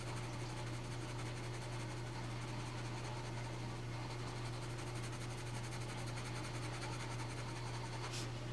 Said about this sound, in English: Can you hear it scratching on the paper?